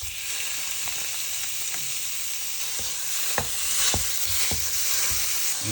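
Lean beef sizzling and frying in a pan, a steady broadband hiss with occasional sharper crackles and stirring scrapes, close and loud with no talking.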